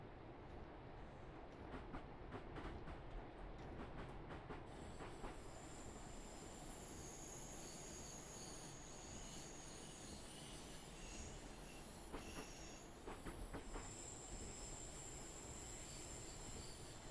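Train rolling on rails on the Innsbruck Shuttle route of the Mittenwaldbahn in a train simulator game, a steady close rumble with faint wheel noise and scattered clicks throughout, no talking.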